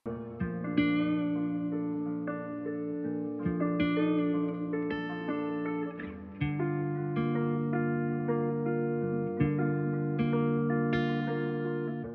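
Electric guitar with effects plays layered, ringing chords picked note by note, with notes sustaining and bending in pitch, echoing over a steady repeating pattern.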